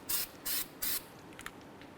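Three short hissing bursts of copper anti-seize aerosol sprayed onto the bearing surface during a CV axle replacement on a 2005-2010 Chevrolet Cobalt, evenly spaced and close, followed by faint workshop clicks.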